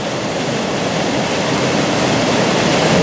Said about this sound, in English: You see the water flowing.